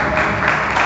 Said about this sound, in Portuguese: Dê uma salva de palmas para a palavra de Deus